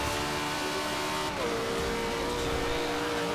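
A hypercar engine in Forza Horizon 2 holds steady at high revs, then dips in pitch as it shifts up and keeps pulling, loud and continuous with no talk over it.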